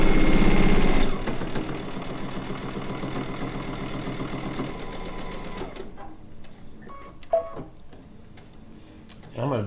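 A sewing machine with a quarter-inch piecing foot stitches a seam for a chicken pin cushion, a fast, even mechanical rattle for several seconds before stopping, followed by quieter handling clicks and a brief thump.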